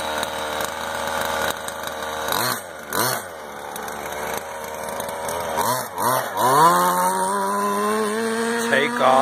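A gas-powered truck engine revs hard with rising whines, drops back between blips, then climbs in a long loud sustained pull as it takes off, close and buzzy throughout.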